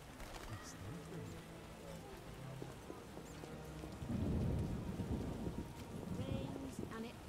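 Rain pours steadily during a thunderstorm in The Witcher video game, and a low rumble of thunder swells midway beneath the hiss of falling water, all fairly faint.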